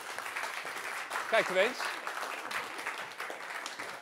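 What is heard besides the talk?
audience applause for last speaker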